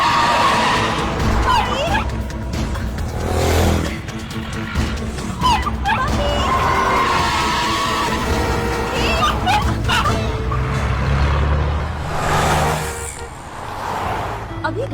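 A car skids loudly and nearly runs someone over in a dramatic movie scene, a harsh screech layered with a dog yipping and whimpering, while people shout and talk over it.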